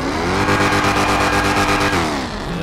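A car engine in GTA 5 revs hard and steadily, with dense rising and falling harmonics, then eases off and quiets as the throttle is released, loud and close with no talking.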